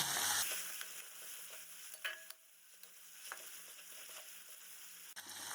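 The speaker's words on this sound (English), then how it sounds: "Give it a quick stir." Garlic paste frying in mustard seed oil for a jackfruit dish, a soft steady sizzle with scraping stirs and light utensil taps against the pan, fairly quiet and close.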